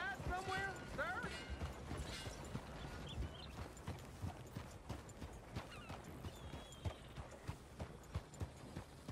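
Hoof clip-clops of a horse trot along in a steady rhythm, with a brief whinny near the start and talking over parts of it, from the video game Red Dead Redemption 2.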